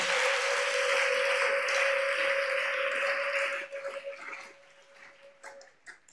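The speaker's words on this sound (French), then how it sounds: "Acclame pour le Seigneur Jésus." A church congregation applauds and cheers for Jesus, a dense sustained roar of clapping and voices with a steady high sung or shouted tone that fades over the final seconds into scattered sounds.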